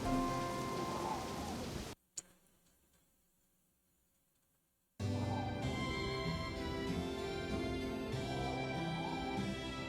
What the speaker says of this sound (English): they're closing Horn Ranch because it's raining